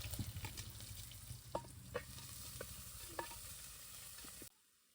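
Mustard seeds and small garlic pieces fry in hot oil, a steady sizzle with a few sharp pops and crackles from the pan, close and clear with no talking, ending abruptly.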